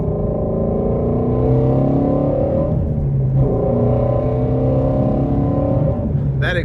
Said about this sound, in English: That exhaust is awesome.